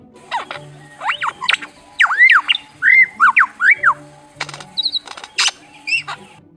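A lyrebird in a southeast Australian forest mimicking other sounds, giving a varied run of sharp squawks, whistled upward and downward sweeps and clicks, close and fairly loud with short gaps between phrases.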